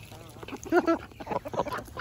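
Several ducks quacking in quick, overlapping bursts while eating GrubTerra feed, close and fairly loud.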